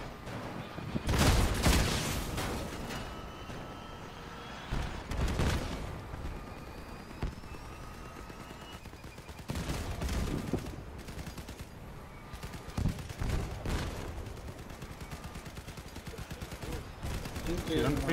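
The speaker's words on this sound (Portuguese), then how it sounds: "Atirando feito doido ele aí." Rapid gunfire in a video game clan battle, arriving in several short bursts spread across the stretch with gaps between them, mixed with ongoing game noise and people talking.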